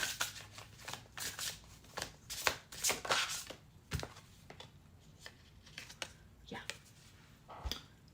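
Tarot cards are shuffled for a reading, a run of brisk riffling and slapping bursts at close range with a soft, uneven rhythm.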